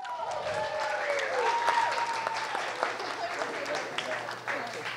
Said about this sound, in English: can we please give a round of applause to Vic and Donna?